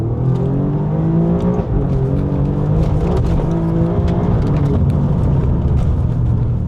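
An Alfa Romeo Giulia Quadrifoglio accelerating hard, heard from inside: a loud, continuous engine roar with the pitch climbing and briefly dropping at gear changes, steady and close, with no talking.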